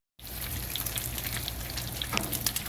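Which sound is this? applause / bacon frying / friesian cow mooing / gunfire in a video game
bacon frying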